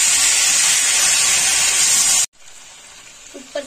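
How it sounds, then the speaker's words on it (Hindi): Potatoes tipped into fried masala in a pan, a loud steady sizzle and hiss that cuts off abruptly, leaving quieter crackling and a few soft stirring clinks. "अब ऐड करेंगे इसमें आलू और इसे भी कर देंगे मिक्स अच्छी तरह से।"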